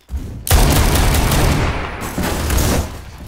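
Rapid automatic gunfire in the Phantom Forces video game, a dense, loud burst of repeated shots lasting a few seconds with a brief dip before firing resumes.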